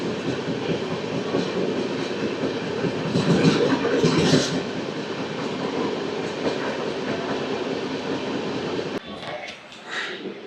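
The Golconda Express, a Guntur to Secunderabad passenger train, runs with a loud rumbling, rattling roll of the wheels on the track, heard from inside, easing to a quieter clatter near the end.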